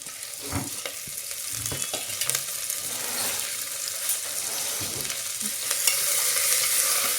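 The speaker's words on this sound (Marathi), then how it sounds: "आता दोन मिनटं आपल्याला परतून घ्यायची फोडणीवरती" Chopped vegetables sauté in a hot tempering of oil with asafoetida and turmeric, a soft continuous sizzle broken by scattered stirring scrapes close by.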